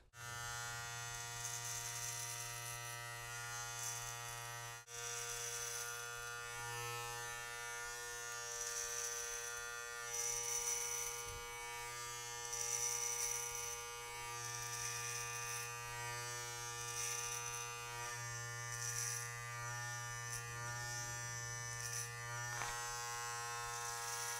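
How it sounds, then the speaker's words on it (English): An electric hair clipper from a Suprent Pro set, fitted with a number 2 guard, buzzes steadily and close while cutting a low fade, its motor drone shifting slightly in pitch as it passes through hair. "finishing off the fade portion with the clipper"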